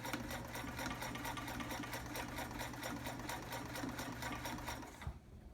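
Vintage Sears Kenmore 158.13200 heavy-duty sewing machine stitching heavy fabric at a long stitch length, a steady rapid mechanical chatter with even needle strokes running close up for about five seconds before stopping abruptly.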